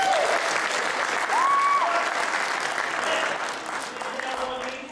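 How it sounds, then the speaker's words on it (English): A Cub Scout pack meeting audience claps for the drivers in an even round of applause. The clapping is strong and continuous, then tapers slightly toward the end, with a voice briefly over it. "give a big round of applause to our drivers"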